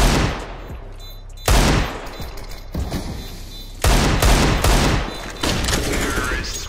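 Desert Eagle pistol fire in the video game Counter-Strike: Global Offensive: a rapid burst of loud, sharp gunshots in close succession, several separate shots cutting in over a few seconds with brief gaps between them.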